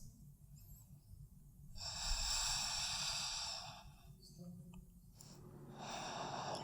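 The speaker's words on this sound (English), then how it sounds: "Keep breathing." Ujjayi breathing during yoga standing postures, with slow, audible breaths swelling and fading in long, close waves, two main breaths separated by a quieter pause.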